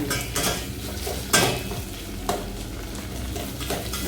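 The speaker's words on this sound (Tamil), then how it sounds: "வெங்காயம் நல்லா வதங்கணும்." Onions sautéing with rock salt in a pan while cooking sambar, a steady close sizzle broken by several scraping stirs of a spoon against the pan, with no speech.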